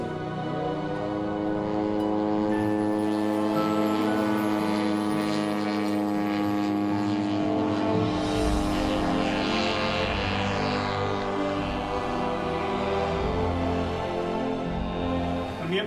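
Drone in flight during a search mission, a steady droning propeller hum with layered whining tones, moderately loud and continuous for about sixteen seconds with no voices.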